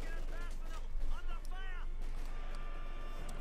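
Sniper fire crackles during a fight in Company of Heroes 2, with a few sharp shots and battle noise sitting under a commentator's voice.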